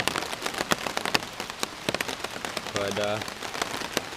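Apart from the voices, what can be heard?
rain falling on a tarp while camping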